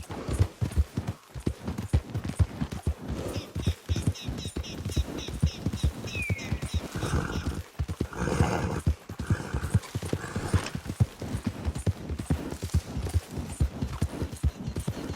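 Galloping horse in Red Dead Redemption 2, steady rapid hoofbeats pounding close and loud throughout, with brief whinny-like tonal sounds mixed in and no talk.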